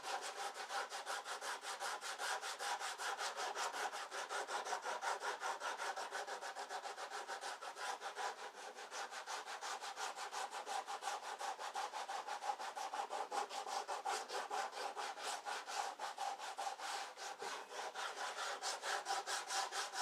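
Wood on a garage door is sanded by hand in quick, steady back-and-forth strokes, a continuous raspy scratching that stays fairly faint and even throughout.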